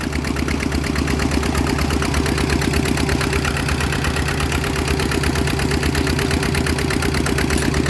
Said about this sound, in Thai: นี่ก็เป็นของคูบต้าครับ RT 110 แรง RC 110พัดทำการสูบน้ำครับ